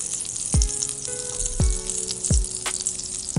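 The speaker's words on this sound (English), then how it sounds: "Now I am going to add 1 tablespoon of almond, 1 tablespoon of cashew nut," Almonds and cashews fry in hot ghee with a steady high sizzle, broken by a few sharp clinks of a spoon against the pan.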